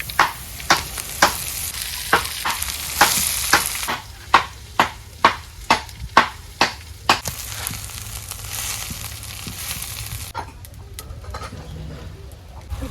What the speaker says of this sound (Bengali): শাকটা দিয়ে দিই, ফোড়নটা হয়ে গেছে।